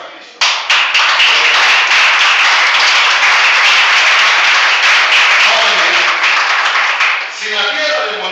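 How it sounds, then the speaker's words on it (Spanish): A church congregation breaks into loud, dense clapping during a sermon, holding steady for several seconds before tapering, with voices mixed into the applause. "Dale palmas a Cristo."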